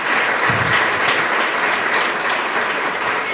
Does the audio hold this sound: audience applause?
yes